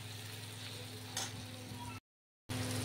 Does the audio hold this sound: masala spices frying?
yes